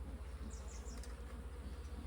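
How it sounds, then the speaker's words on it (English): Agitated honeybees at an opened hive during an inspection give off a steady, dense buzzing, close and continuous, with a few higher whining passes of individual bees flying near. "but I can tell that the bees are not happy."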